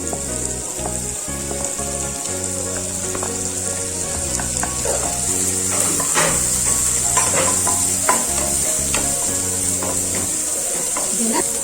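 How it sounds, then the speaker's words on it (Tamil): Chopped onions sautéing in melted butter for a paneer butter masala gravy, a continuous loud sizzle and crackle with intermittent stirring scrapes against the pan. "ஆனியன் வந்து பார்த்தீங்கன்னா நல்லா சாட்டே பண்ணணும்."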